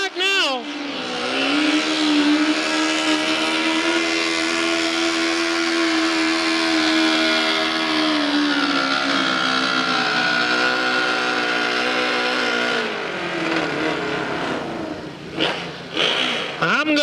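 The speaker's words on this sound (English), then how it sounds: "John Tyler going down the track now." A GTP vehicle runs down a drag strip at an agricultural fair, its engine a loud sustained roar holding a steady pitch before fading, with an announcer's voice speaking over it.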